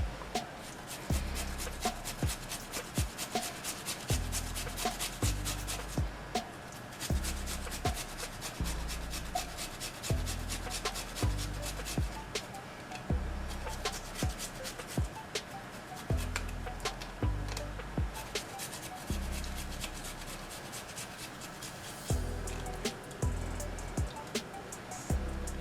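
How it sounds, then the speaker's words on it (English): Fresh ginger is rubbed against a grater in steady, repeated rasping strokes, close and fairly loud, carrying on in an even rhythm with brief pauses and no talking. "I'm going to start off by grating my ginger."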